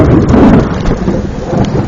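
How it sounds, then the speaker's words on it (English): Heavy rain pours steadily in Texas while thunder rumbles low and continuous beneath it, a dense, loud storm with no voices. "I'm gonna show you what the rain looks like right now."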